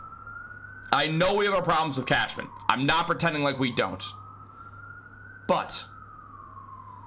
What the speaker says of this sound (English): if you hear those sirens outside